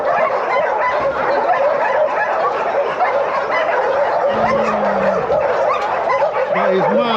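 Dozens of dogs barking, yelping and whining together in a dense, continuous loud chorus filling the whole space, with a few higher whines rising above the din.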